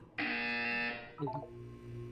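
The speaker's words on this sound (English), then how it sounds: "When you hear the buzzer, look down at the floor." A loud, harsh electronic buzzer in Portal 2 blares for about a second, then a short descending tone sequence follows, typical of a game cue.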